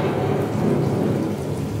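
Heavy rain pours steadily with a low thunder rumble in an animated-show storm scene on Walt Disney World's Carousel of Progress ride, a dense continuous wash with no voices.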